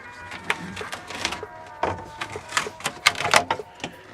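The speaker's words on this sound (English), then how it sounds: "we got to take off this trim." Plastic interior trim panel on a Toyota AE86 being pried loose during a GTS swap, giving a string of sharp clicks, snaps and creaks in uneven bursts, close and fairly loud, growing busier toward the end with no talk.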